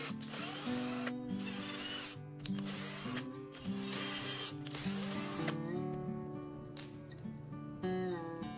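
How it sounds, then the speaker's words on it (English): Power drill boring holes with an M5 bit through the side panels of a 3D printer rack, guided by a simple jig; repeated whining drill runs with brief pauses between them, close and steady. "I am using this simple jig to help drill the panels accurately, without measurement."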